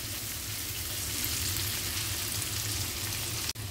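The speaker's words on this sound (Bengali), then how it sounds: "টমেটো আর পেঁয়াজটা একসাথেই ভাজা ভাজা হয়ে যাবে" Chopped tomato and onion fry together in hot oil in a pan, giving a steady, close sizzle that hisses without a break, with one sharp knock near the end.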